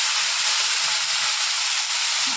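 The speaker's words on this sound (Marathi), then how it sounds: "आता फ्राय करून घेते भाजीला फक्त" Vegetables frying in a kadai with green chillies, giving a dense, continuous sizzle that holds steady and loud for a couple of seconds without talk.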